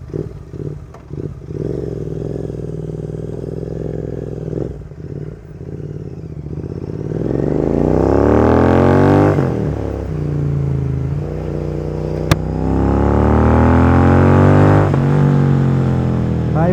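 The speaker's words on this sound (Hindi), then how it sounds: "तो ये मोटो टॉर्क का एग्जॉस्ट है।" A GT 650 motorcycle with a MotoTorque exhaust, idling with a loud burbling note, then revving up and down twice in long rising and falling sweeps, close and loud.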